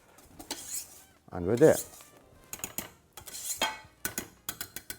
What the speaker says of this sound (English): bring it together, quick whisk